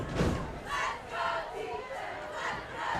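A home crowd at a Thursday night high school varsity football game makes noise, loud cheers and yells swelling in repeated waves after halftime, heard from the broadcast booth.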